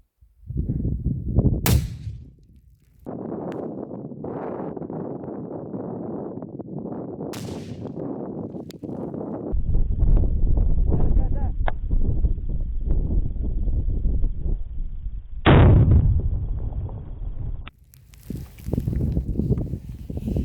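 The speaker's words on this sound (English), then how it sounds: "Nice violent explosion," A thrown RGD-5 hand grenade detonates outdoors at a target range with a sharp, heavy blast that booms loudly and rumbles on for several seconds, followed by another hard crack and lingering low rumble.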